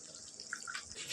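Tap water runs briefly during home cooking, a short, soft, steady splash of flowing water heard close by with no voices.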